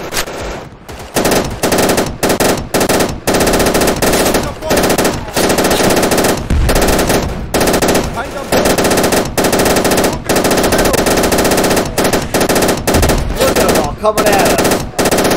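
Sustained machine gun fire in the World War II shooter Easy Red 2, long bursts broken by brief pauses, loud and close, with a voice briefly calling out over the shooting.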